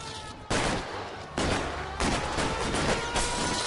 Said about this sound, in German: Aha, die schießen auf mich.